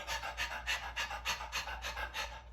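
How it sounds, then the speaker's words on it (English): A dog pants heavily just before whelping, quick rhythmic breaths repeating steadily at about three per second, close and loud throughout with no talking. "The dog's panting and it's panting."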